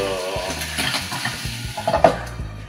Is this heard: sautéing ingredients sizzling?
yes